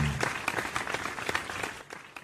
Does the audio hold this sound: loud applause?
yes